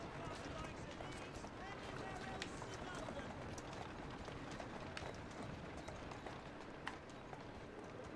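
Continuous rapid hoofbeats of a horse running in the video game Assassin's Creed Syndicate, a dense, even clatter with steady loudness throughout, under occasional speech.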